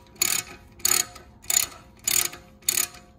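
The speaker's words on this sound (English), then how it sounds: "I'm putting the camera down so I can remove the bolts." Five evenly spaced bursts of ratchet clicking as a ratchet wrench works a brake caliper bolt on an 2018–2021 BMW X3 during a rotor replacement, close and crisp with short pauses between strokes and no talking.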